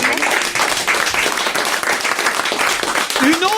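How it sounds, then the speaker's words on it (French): A television studio audience applauds, dense energetic clapping at close range throughout, with a voice rising briefly over it near the end. "On vous applaudit tous les deux."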